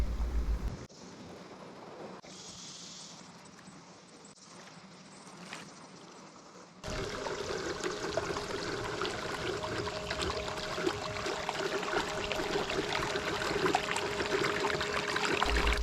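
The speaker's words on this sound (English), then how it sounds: "it pumped the water back out and resumed swimming on the surface" A Beatbot AquaSense Pro pool robot pumps water back out into the pool, a steady rushing, gushing water noise that starts abruptly after a quieter stretch and then runs on continuously, close and loud.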